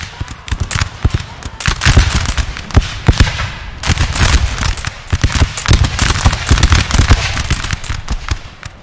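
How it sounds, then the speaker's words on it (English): Massed musket fire from about 290 guns in the Napoleon Total War video game during the Battle of Abukir, a loud rolling crackle of overlapping sharp reports in irregular bursts, sustained throughout. "That's what 290 guns firing sounds like."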